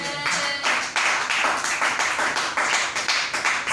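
A church congregation claps in a rhythmic, steady beat, a continuous close patter of many hands with no talk over it.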